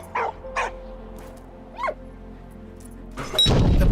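A dog in the video game Valiant Hearts gives a few short, separate barks and a yelp, clear and close, followed by a sudden loud burst at the end.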